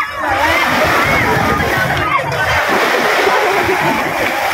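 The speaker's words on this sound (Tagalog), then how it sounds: "Ito pala, salpo ko na ng alon." Ocean waves splash and churn loudly and close by, a continuous rushing wash of water, with a voice speaking underneath.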